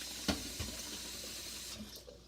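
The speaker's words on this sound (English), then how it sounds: "I'm filling up the pan." Running tap water splashing steadily into a pan of boiled eggs, quiet and close, with a couple of soft clunks near the start.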